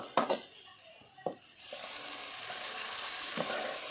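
Tomato paste frying in a pan for a Burmese-style fish curry, a steady soft sizzle after a couple of sharp clinks of utensils, close and fairly quiet.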